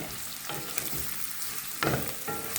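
Bitter gourd (karela) bhaji frying in a pan, a steady close sizzle with a few louder stirring scrapes breaking through.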